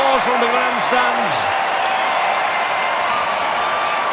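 Loud, steady applause and crowd noise rise from the grandstands at a Hong Kong rugby sevens match between Spain and Hong Kong, with a commentator's voice running over the top.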